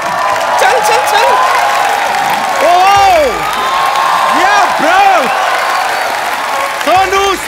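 Loud studio audience applause and cheering for Sonu Sood on a comedy talk show, a dense sustained crowd roar with whoops and shouts, while a loud voice speaks over it.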